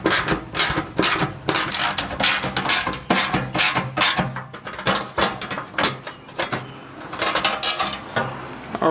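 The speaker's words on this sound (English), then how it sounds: "We're going to loosen both of them, but just take off one with a 10mm socket" A ratchet with a 10mm socket loosening bolts on a 2nd-gen Nissan Xterra, heard as dense, loud, continuous bursts of metallic clicking and clattering close up, with brief lulls between runs.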